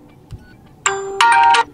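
A ringtone preview from an OPPO Find X2 Neo phone, a bright two-part chime with sustained ringing tones, loud and close over near silence.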